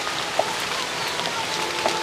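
Steady rain falling in a home setting, a dense, even hiss of drops that stays loud and unbroken for a couple of seconds, with a few faint knocks and no voices.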